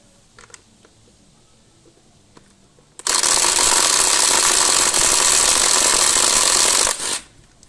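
An impact wrench spins off the rear wheel bolts of a Segway Ninebot Max G30 electric scooter, a loud steady four-second burst of buzzing rattle after quiet handling noises, ending abruptly.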